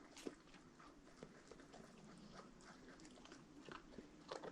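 Dogs chewing and crunching their food, with small sharp bites scattered irregularly through a quiet outdoor scene; the sound is faint and close, with no talking.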